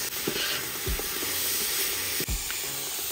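Onions frying in a pan for a mandi rice and barbeque chicken cook, a constant close hiss and sizzle with a few soft stirring knocks underneath.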